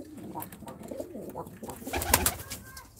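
A pigeon, a young bird being caught by hand, coos in low, rolling repeated phrases close by, with handling rustle and a louder burst near the end.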